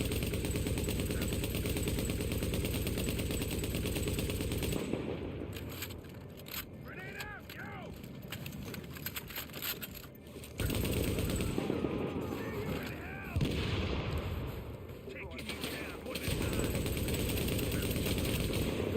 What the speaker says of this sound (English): Hey, who's shooting at me?